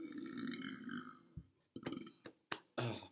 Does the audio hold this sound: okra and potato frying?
no